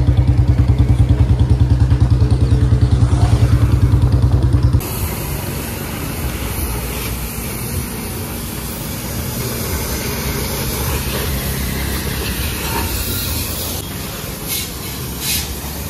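A pressure washer sprays a muddy Bullet motorcycle, first with a loud droning pump and hiss, then a steadier spray with scattered clatters and knocks as the jet hits the bike, no talking.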